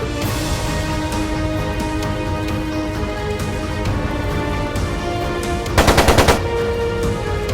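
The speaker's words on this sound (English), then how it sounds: "It sounded like a machine gun." Rapid burst of machine gun fire in the video game Trails of Cold Steel II, a short loud rattle of shots cutting through a dense, continuous bed of music and battle ambience.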